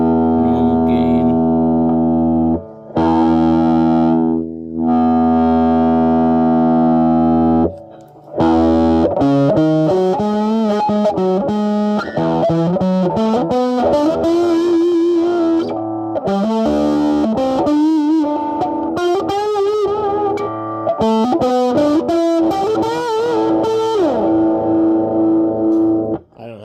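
An electric guitar is plucked with bare fingers through a 1988 Peavey Rage practice amplifier, starting with held distorted chords, then moving into choppy single-note riffs with effects, loud and close throughout.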